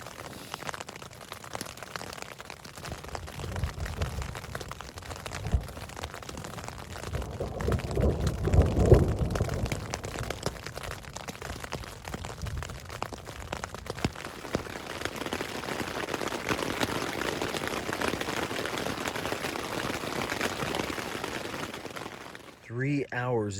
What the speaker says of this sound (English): 3 hours it's been raining off and on. Still thundering.